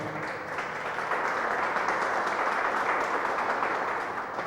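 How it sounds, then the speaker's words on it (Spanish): Church congregation applauding in praise, a dense, even wash of clapping that swells slightly and holds steady for several seconds without speech. "Dale un fuerte aplauso"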